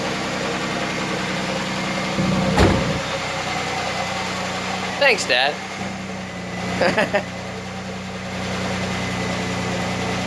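A 1996 Chevy Camaro with a swapped engine idling smoothly just after its first start, a steady mid-pitched drone running throughout, with brief clatters and someone speaking a few words over it.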